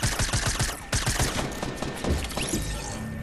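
Gunfire rings out during a Fortnite match, a rapid volley of sharp shots followed by continuing rattling bursts, loud and close.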